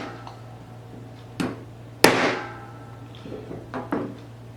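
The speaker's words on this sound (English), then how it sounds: "we will use our punch and hammer to tap the pins the rest of the way into place" A hammer strikes a punch to tap the pins of an SLT-1 trigger into place in a receiver resting on a mat, giving a few sharp, close metallic taps spaced irregularly, one louder than the rest, over a steady background hum.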